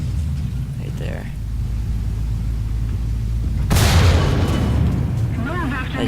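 A tank cannon shot in the War Thunder game, one sudden loud boom partway through that rolls off into rumble, under continuous engine drone, with someone talking before and after.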